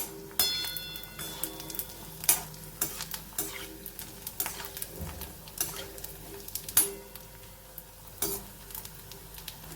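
Pumpkin and bhagar sandge fry in a little oil, a low continuous sizzle and crackle broken by irregular sharp taps of a spoon against the pan, close and fairly quiet, with no voices.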